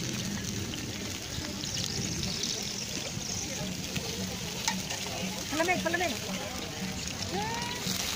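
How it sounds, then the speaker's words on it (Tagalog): Vegetables frying in a pan for lunch, a continuous sizzle with stirring scrapes, while people talk nearby and chirpy voices or birdlike calls rise near the end. "niluluto na namin yung mga veggies for lunch"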